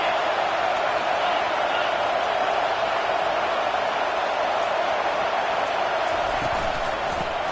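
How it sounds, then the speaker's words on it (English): A packed football stadium crowd sends up a steady, dense roar that holds at an even, loud level throughout, a continuous wash of massed voices with no distinct cheers or breaks. "This crowd going to try to make life miserable for these guys."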